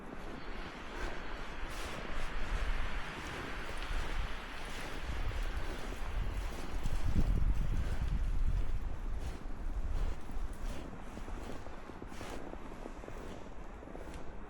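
Raw wind gusts outdoors on a snowy walk, with a continuous broad roar and buffeting that swells and eases, and light rustling of leaves layered over it.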